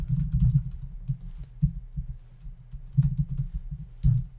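Fast typing on a computer keyboard, with close, crisp key clicks in uneven bursts and short pauses between them, heard alone without any voices.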